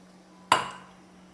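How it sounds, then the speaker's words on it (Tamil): A metal kadai set down on a stove gives one sharp clank followed by a short ringing decay. It is close and clear, with no talk. "ஒரு கடாய் வச்சுக்கோங்க."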